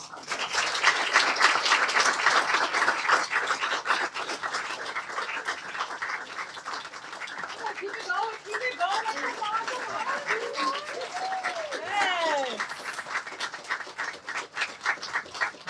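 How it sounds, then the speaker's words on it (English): A crowd claps steadily for several seconds, dense and continuous, with some vocal sounds mixed in as the applause carries on. "It's great to keep clapping because we want to get comfortable on stage."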